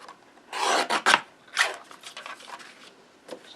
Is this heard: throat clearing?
no